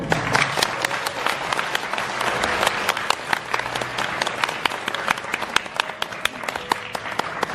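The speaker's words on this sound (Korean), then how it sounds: "박수 한번" At a family celebration honoring a son-in-law, a small audience claps in a sustained round: individual sharp claps stand out clearly against a lively, even background patter for several seconds.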